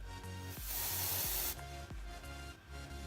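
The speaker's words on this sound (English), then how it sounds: "Spray it all over." A Dove aerosol deodorant can sprays one hissing burst of about a second, close and fairly loud, over a low background hum with faint clicks.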